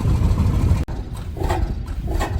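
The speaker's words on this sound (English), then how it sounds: "You got a Bessemer oil field engine" A Bessemer oil field engine runs steadily at a steam show, a continuous low rumbling drone with a brief dropout partway, then a rhythmic chugging that carries on close by with no talk.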